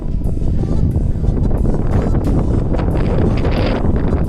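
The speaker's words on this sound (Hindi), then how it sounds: "यहाँ पे बहुत हवा चल रही है" Strong wind gusting across the hilltop at Karnala Fort on a monsoon trek, buffeting the microphone in a loud, continuous rumble with shifting surges, no speech heard.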